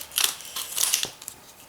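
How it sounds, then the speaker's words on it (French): Scissors snip and crinkle through lipstick packaging at close range, a few quick crisp cuts and rustles spread over under two seconds, with no voices. "Alors je me suis équipée de mon ciseau pour pouvoir l'ouvrir."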